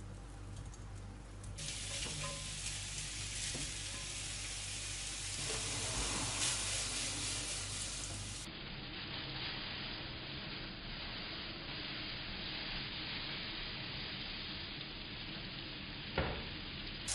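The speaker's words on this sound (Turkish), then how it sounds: "Yağımız ısındığı gibi köfteleri atalım ve pişirelim." Meatballs frying in about two tablespoons of hot oil in a wide pan, a steady close sizzle running throughout with occasional light clinks, no voices.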